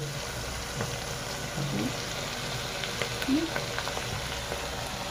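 Masala spices hitting hot oil for a Konkani-style chicken dish, producing a steady, dense sizzling hiss throughout, with small crackles and a couple of soft stirring bumps.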